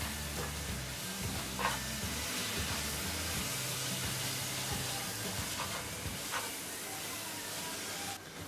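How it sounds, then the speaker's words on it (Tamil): Chili powder and turmeric sizzle and fry in a hot pan for cauliflower curry with a steady hiss, and a spoon stirs with occasional faint scrapes throughout, close by and unbroken. "சில்லி பவுடர், மஞ்சள் தூள் இதெல்லாம் சேர்த்துட்டு இன்னொரு முறை கலரி விட்டுருங்க."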